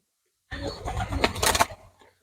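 Pigeons coo up close after a moment of silence, a soft, throaty rolling call that swells and then fades, with no talking over it.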